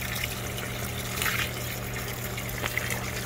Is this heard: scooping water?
yes